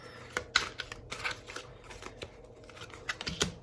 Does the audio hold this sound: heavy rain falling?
no